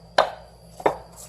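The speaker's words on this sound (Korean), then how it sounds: "뼈 잘리는 소리가 상당히 좀 하드코어하게 들리죠." A knife chops through the tough bones of a gizzard shad, two sharp, crunching strikes on a cutting board about half a second apart, close and clear against a quiet background.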